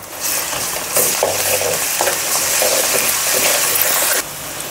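Onions and ginger fry in a pan for Telangana-style goat head curry, a loud, steady sizzle broken by repeated scrapes and stirs of a spoon against the pan, ending with a sudden drop in level.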